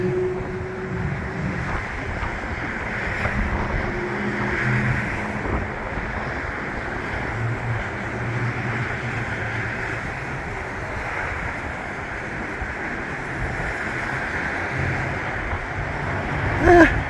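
Gusty wind buffets an outdoor spot on a blustery, cold, snowy spring day in Albuquerque, a steady broadband roar like surf rising and easing with the gusts, loud and continuous with a brief bump near the end.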